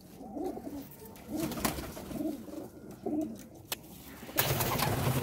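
Pigeons cooing in soft, repeated low calls, close by, with a few sharp rustles and flutters in between.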